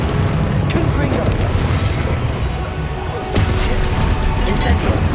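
Confringo fire spell explosions in the video game Hogwarts Legacy, booming blasts and crackling bursts in dense succession amid game noise, with a voice shouting over the action.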